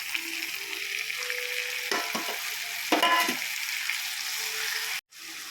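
Chopped onion sautéing in a hot pan for Bharelo Rotala, a steady close sizzle with a couple of louder stirring scrapes, cutting off abruptly near the end before resuming.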